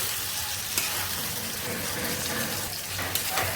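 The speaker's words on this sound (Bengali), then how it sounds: "মাছগুলো মাছ দিয়ে এখন এগুলোর সাথে ভালোভাবে মিক্স করে নেব মাছ ভাজা হয়ে গেছে" Fish and onion slices frying in a pan, a steady close sizzle with stirring scrapes throughout, no talking.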